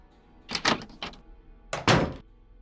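A door in the Nancy Drew game The Curse of Blackmoor Manor creaks and shuts in two bursts of rattling, thudding noise, close and fairly loud, with no speech over it.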